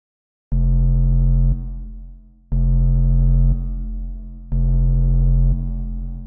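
Three sustained synth notes with reverb, each holding about a second before cutting off and trailing into a reverberant tail, played alone in Ableton for dub production.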